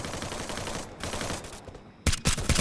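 Bursts of automatic gunfire in the battle royale game Free Fire rattle steadily at moderate volume, pausing briefly before sharper, closer shots break in at the end; no one talks over them.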